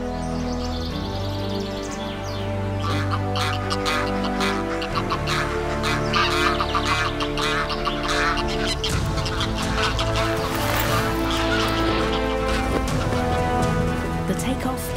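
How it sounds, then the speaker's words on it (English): A gaggle of heavy geese honks and clucks loudly and continuously as it takes off together from the ground in a garden in autumn. A narrator speaks over the calls. "It's hard to imagine the heavy geese even taking flight."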